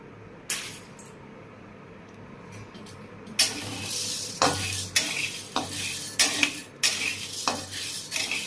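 Chana dal is stir-fried in a large pan, starting with a faint low sizzle. It then turns into loud, repeated scraping strokes of a metal spatula against the pan, roughly once a second, over a continuous hiss.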